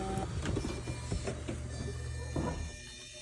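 The convertible top of a Porsche 911 996 rises on its hydraulic rams with a loud, continuous mechanical whir and grinding hum. A few clunks break into it before the motor noise fades out at the end.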